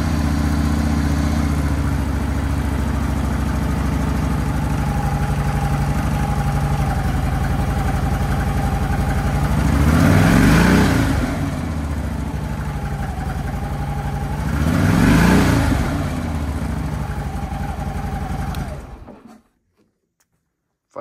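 A stock 2008 Harley-Davidson Ultra Classic motorcycle engine rumbles at a steady close idle, blipped twice into short revs, then cuts off abruptly near the end.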